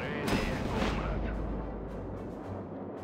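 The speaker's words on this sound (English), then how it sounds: "Cannon is ready, comrade." Cannon fire rumbles in a WWII real-time strategy game as Soviet forces battle, a dense, booming roar of artillery with sharp blasts early on, then a sustained low thunder throughout, loud and close.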